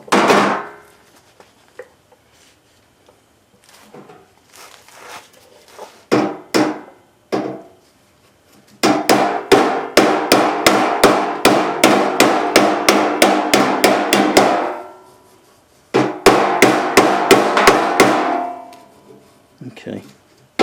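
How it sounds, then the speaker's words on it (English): A bigger hammer strikes the sheet-metal tailgate of a Ford F100 during metal shrinking: a few scattered blows, then two fast, steady runs of sharp, close, loud hits, with short pauses between. "I think I might get the bigger hammer, only because it covers more area."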